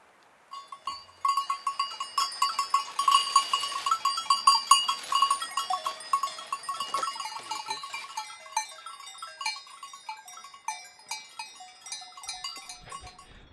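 Livestock bleating high in the Swiss Alps, with sheep or goats calling repeatedly over tinkling bells, a dense chorus early that thins into scattered nearby calls.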